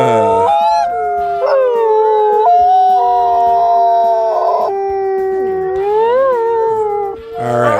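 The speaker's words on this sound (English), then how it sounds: "Yeah, there's a couple wolves howling." A pair of wolves howl together in long, overlapping, rising and falling tones, loud and sustained, with brief yips breaking in and no talking.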